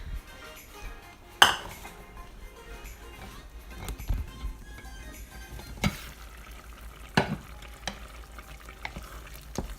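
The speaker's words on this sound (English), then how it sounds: "Let's go over and stir this real quick." Food for cheesy chicken and broccoli noodles is stirred in a cooking pot, with soft scraping and a few sharp clinks of a utensil against metal over a faint sizzle, no talking.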